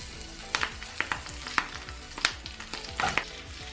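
Loud, steady sizzling of cabbage frying in a pan, with repeated scraping clicks of stirring at an uneven rhythm throughout.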